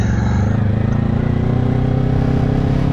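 A 2025 Yamaha R3 motorcycle with a quick shifter runs loud and steady under way, its engine droning throughout with faint shift clatter and no talking.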